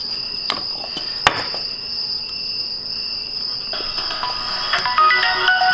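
A mobile phone rings during a demonstration of a refillable spray cleaner, its steady electronic tone running throughout at moderate loudness and growing busier and slightly louder toward the end, with no talking.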